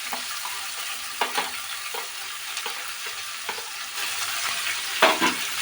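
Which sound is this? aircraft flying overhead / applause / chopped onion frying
chopped onion frying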